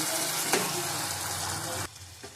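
Poppy seed and cashew paste fries with chicken in a pan, giving a steady close sizzle with a stirring scrape, then cutting off abruptly near the end, leaving a quieter moment with one faint knock.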